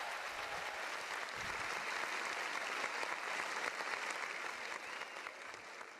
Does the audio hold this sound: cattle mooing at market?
no